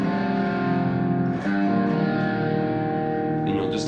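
Distorted electric guitar plays a three-chord augmented progression in a rock style, sustained and loud throughout with effects-laden tone, a brief dip midway.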